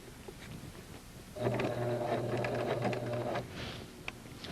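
A sewing machine stitches fabric for a casing in one short, steady whirring run of about two seconds, moderately close, set against quiet room noise.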